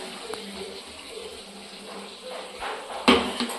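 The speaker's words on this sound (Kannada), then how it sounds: "ನೀರು ಹಾಕಿ ತೊಳೆದ್ಬಿಟ್ಟು ಹಾಕ್ತಿರ್ತೀನಿ." Tap water running while raw chicken is washed for pepper chicken masala, a soft continuous stream with faint splashes and a brief louder gush near the end.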